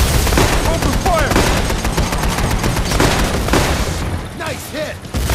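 Dense, loud gunfire bursts from the video game Payday: The Heist, with overlapping rapid shots and booming impacts filling the whole clip and shouted voices mixed in.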